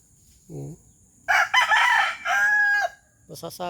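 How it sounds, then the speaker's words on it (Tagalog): A young rooster crows loudly and close by, a long drawn-out call after a short low grunt, followed by a few brief clucks. "Yung 6 na tandang ko"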